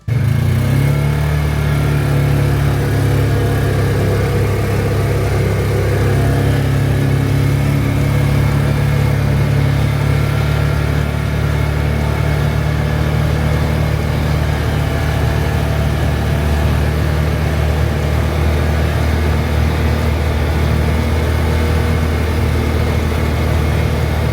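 A vehicle driving down toward the front gate of an off-grid Ozark mountain homestead, its engine a loud, steady low rumble heard from inside for the whole stretch, with no talking.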